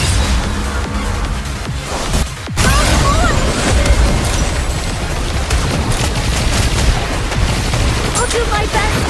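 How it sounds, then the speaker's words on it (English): Aegis cannon fire in the Goddess of Victory: Nikke video game, a dense barrage of booming blasts and rapid gunfire, loud and continuous with a sharp burst partway through, as voices call out over the battle. "Aegis cannon, fire!"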